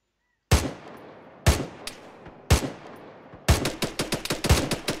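Machine gun fire: three separate loud, close bursts, evenly spaced with quiet gaps between them, then a rapid run of shots. No voices are heard.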